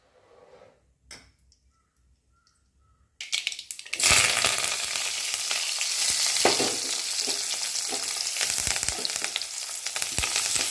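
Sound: tempering ground spice paste in hot oil

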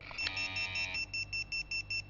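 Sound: alarm clock beeping

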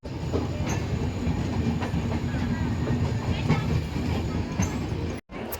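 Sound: superfast passenger train running on rails

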